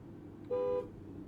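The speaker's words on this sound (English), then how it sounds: "And you know we gotta hear that horn" A 2026 Cadillac Escalade V, a full-size 682-hp SUV, gives a single short, thin, whiny horn toot, clear against a quiet cabin background.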